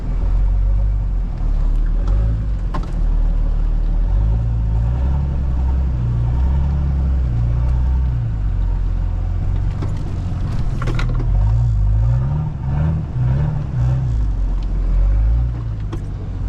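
Nissan Patrol engine labouring in low gear while stuck in deep mud, a loud, steady rumble that rises and falls in surges throughout, with no talk over it.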